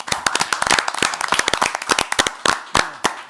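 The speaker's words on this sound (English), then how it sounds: "we owe him a round of applause" A small audience at a Seaford mayor and council meeting gives a round of applause, with loud, close, individually distinct claps in an uneven, sparse patter.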